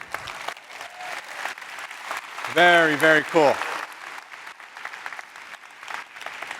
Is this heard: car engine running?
no